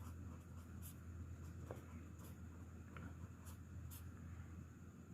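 Chalk or marker writing on a board during a geometry lesson, faint scattered taps and short strokes over a steady low room hum, no talking.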